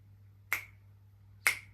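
Two crisp finger snaps about a second apart, close and dry over a low hum, as at the opening of Queen's "A Kind of Magic."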